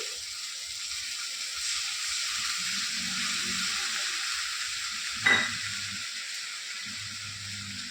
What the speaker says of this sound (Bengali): মশলার বাটি ধোয়া জলটা দিয়ে দিচ্ছি